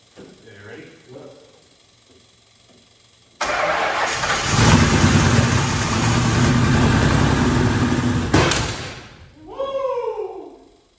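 An old Ford Bronco, unstarted for over ten years, cranks and fires into a loud, rough running engine for several seconds before cutting off abruptly, with excited voices before and after.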